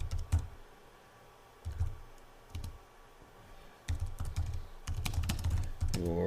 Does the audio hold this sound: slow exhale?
no